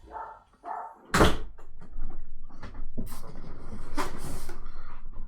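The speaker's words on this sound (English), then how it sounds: "I'm going to close this door." A door pushed shut indoors, one sharp close-up thud and clatter followed by a second softer knock a few seconds later, with faint muffled household noise in between.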